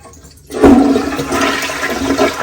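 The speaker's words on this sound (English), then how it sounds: "she pressed it one time, and it's flushing" A home toilet, being tested after repair, flushes once: a sudden loud rush of water after half a second of quiet, then a steady near gurgling flow continuing through the rest.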